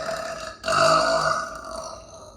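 One long, deep, loud human burp, rumbling and sustained for over a second with a rough vocal tone, heard close and alone.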